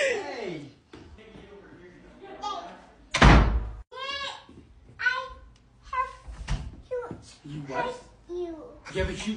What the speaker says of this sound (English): No slamming doors around here.